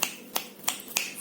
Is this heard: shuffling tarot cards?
no